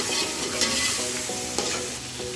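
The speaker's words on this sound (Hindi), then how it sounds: "इसको हम अब अच्छे तरीके से मिक्स कर लेंगे और इसकी भी अच्छे से भुनाई कर लेंगे।" Biryani ingredients sizzling in a hot pot while being stirred and tossed, a dense continuous crackle with a few sharper scrapes, close up and with nobody talking.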